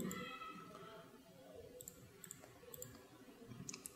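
Faint computer mouse clicks while working in Photoshop, a few small, sharp ticks spaced about a second apart in a quiet room with low background noise.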